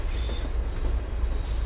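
A train crawls slowly past in Train Sim World 5, giving a continuous deep rumble of rolling wagons with faint wheel squeal and a steady, close wash of rail noise.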